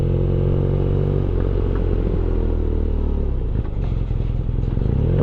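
A BMW R nineT motorcycle braking on the road: a loud, steady engine drone with wind rumble that drops in pitch as the bike slows, no talk.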